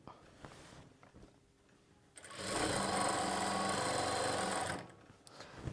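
A sewing machine stitches lining along a centre fold in one steady whirring run of about two and a half seconds, framed by quieter handling sounds before and after.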